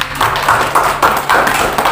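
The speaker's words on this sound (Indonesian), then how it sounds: "Tepuk tangan buat." Pupils in a classroom give a short, loose round of clapping during a biology lesson, the claps coming in uneven bursts at close range.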